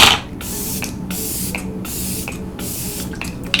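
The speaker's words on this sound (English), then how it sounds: "that is the best setting spray ever" KVD Lock It makeup setting spray misted onto a face in several short, close, hissing bursts spaced about half a second apart, with no voices.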